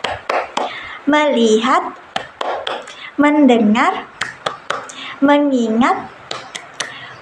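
A teacher leads a class in the tepuk fokus clap game, with sharp, close claps in quick rhythmic bursts between sung or chanted phrases from a voice.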